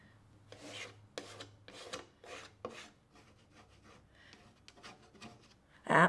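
Sanding wax off a painted vintage background, heard as a series of close, dry rasping strokes in bursts, then softer scratchy rubbing, ending with a loud brief scrape.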